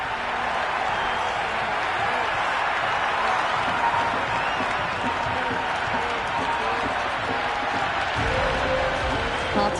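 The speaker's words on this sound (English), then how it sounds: "The crowd are making a heck of a lot of noise even before the first ball's been bowled" Cricket stadium crowd at an IPL match between RCB and SRH, a dense continuous roar of cheering and applause that stays loud throughout, with a commentator's voice partly audible over it.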